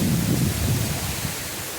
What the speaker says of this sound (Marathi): पाऊस पण चालू झाला आता थोडा वेळ आता पाऊस पण चालू झाला